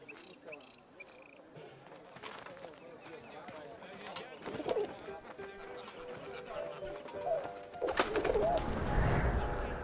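A pigeon coos in a World War I setting in the video game 11-11: Memories Retold, with soft repeated calls and a burst of wing flapping near the end as it takes off, under ambient game sounds.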